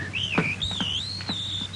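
Clear whistled bird-like chirps, a rising and gliding tone with short tweets, close and continuous over a faint hum.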